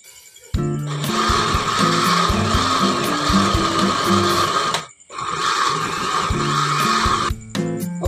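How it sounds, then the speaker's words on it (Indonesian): A blender grinds shrimp shells into powder, a loud harsh whirring roar with rattling chunks, cutting off briefly midway before starting up again, with no talk over it. "Oke, sekarang kita blender."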